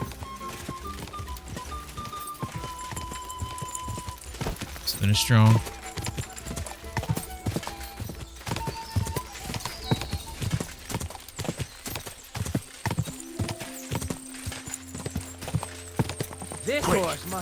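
Horse hooves clip-clop at a fast, steady gallop during a race in Kingdom Come: Deliverance 2, with a brief whinny, game music and someone talking excitedly over the rhythm.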